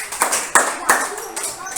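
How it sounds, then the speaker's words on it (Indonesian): Classroom students give a few quick bursts of clapping, short irregular claps close by, with some voices mixed in. "Berikan tepuk tangan semuanya."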